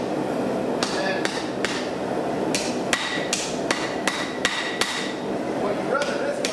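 Hammer blows on a knife blade tip against an anvil while forging a seax, a series of sharp ringing metallic strikes at an uneven pace, loud and close over a steady background roar.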